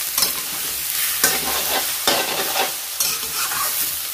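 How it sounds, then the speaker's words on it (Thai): Eggs stir-fried in a hot pan for glass noodle stir-fry, with a steady sizzle and four sharp scraping strokes of a spatula at roughly one-second intervals, close and alone without talk. "ไข่เราจะใส่ก่อนนะคะผัดให้ไข่มันสุกก่อนค่ะ"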